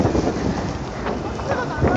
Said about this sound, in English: The wind is blowing so strong today.